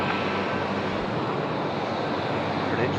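A steady broadband roar of Jetstar jet engines at Sydney Airport, heard from a distance without change in level across the short span.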